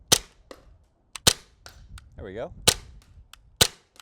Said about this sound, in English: It's like one of the heaviest blowbacks I've felt in a pistol.